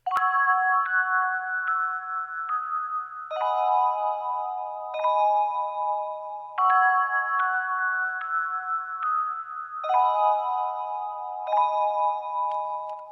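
A bright bell-like synth plays a trap beat melody over sustained chords, steady and clear with no other sounds, changing chords every couple of seconds.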